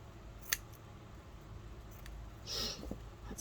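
Scissors cut fabric with a couple of brief, faint snips, one sharp click early and a softer slicing cut later, against a quiet room background.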